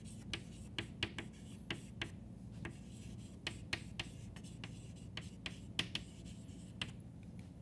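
Chalk or a pen scratches and taps out a formula on a board during a mathematics lecture, irregular short strokes over a low room hum.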